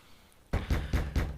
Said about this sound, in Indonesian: Ada yang mengetuk pintu pantry.